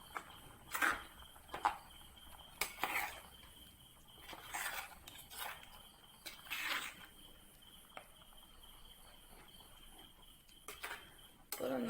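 Kerala-style fish curry with coconut paste being gently mixed in a pan, with intermittent metal spoon clinks and scrapes against the pan over a quiet background.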